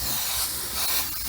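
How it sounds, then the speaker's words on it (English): Airbrush spraying paint over a carbon fiber template, a loud continuous close hiss of air and atomized paint with no pauses. "you want to be spraying, try to spray to 90 degree or as close you could to the template"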